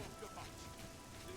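Steady rain pattering on surfaces in the Imperial City Temple District of The Elder Scrolls IV: Oblivion at night, a continuous soft wash of drops throughout.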